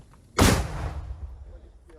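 A single loud, booming mortar shot goes off up close at a Ukrainian mortar position near Soledar, its blast decaying into a rumbling tail, with faint voices at the edges.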